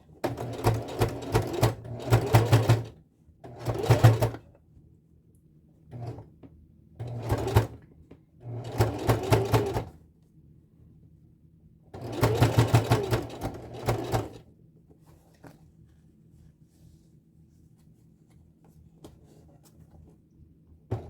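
A sewing machine stitches a zipper into a corset in several separate bursts of rapid mechanical clatter, each lasting a second or two, with quiet pauses between them. The machine is close and there is no talk.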